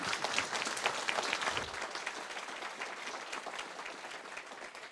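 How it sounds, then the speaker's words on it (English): Attendees at a by-election candidate forum give the candidates a round of applause, a soft, even wash of clapping heard from a distance that thins out toward the end. "Give your candidates a round of applause."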